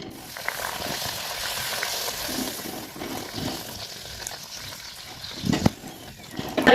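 Beetroot puris fry in hot oil, a moderate steady bubbling sizzle close by, with a few louder crackling bursts and rustles toward the end.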